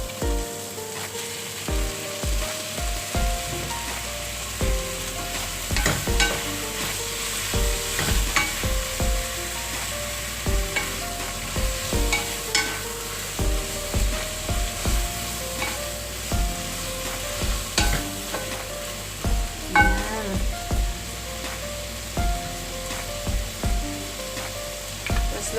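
Squid sautés with tomatoes in a pan for adobo, a continuous sizzle broken by regular clacks and scrapes of a spatula stirring, close and fairly loud, with no talking.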